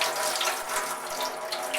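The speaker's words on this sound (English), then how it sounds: "So I give it a quick rinse" Tap water running steadily into a sink while grains for medicinal jook porridge are rinsed and strained, a close, continuous splashing stream with no talk over it.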